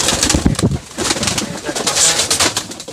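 Fancy pigeons at a pigeon farm coo in dense, overlapping low bubbling calls, close and fairly loud throughout, with no talk over them.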